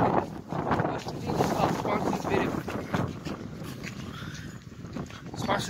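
Gusty wind roars and buffets the microphone, rising and falling in strong bursts close by.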